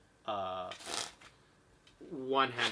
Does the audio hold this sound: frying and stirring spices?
no